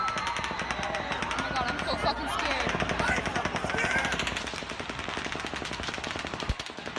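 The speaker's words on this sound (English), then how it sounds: "The cracking sound you hear are bullets passing nearby." Sustained automatic gunfire from the Las Vegas shooting, rapid rhythmic bursts echoing across an outdoor concert area, with sharp cracks of bullets passing close by and crowd voices underneath throughout.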